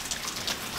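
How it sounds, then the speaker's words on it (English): Steady rain falling outside on a gloomy day, a dense hiss of drops pattering on surfaces with no voices, fairly quiet throughout. "it's just gloomy, raining, depressing"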